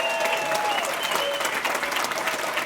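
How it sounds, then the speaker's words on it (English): A convention audience in San Francisco breaks into a full, loud round of applause for a speaker, continuous clapping filling the moment with some crowd voices mixed in. "let's have a big round of applause for Jerry"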